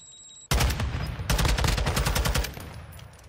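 Rapid automatic gunfire erupts in a competitive bomb-plant video game match, loud sustained bursts after a quiet half-second, with a brief pause before firing resumes and then tapers off.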